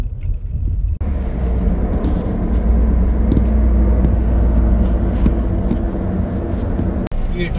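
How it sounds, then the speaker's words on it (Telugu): A large trailer lorry rolls past on a desert road in Kuwait at night, its heavy engine rumble loud and close, droning steadily for several seconds with a sharp break near the end. "ఈ లారీ అయితే ఎంత పెద్దగా ఉండదు చూడండి"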